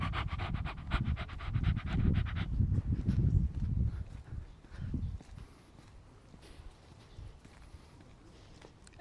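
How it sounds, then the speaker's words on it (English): A dog pants quickly and rhythmically close by. After a few seconds the panting fades and softer shuffling sounds remain. "I like when they make their panting sound."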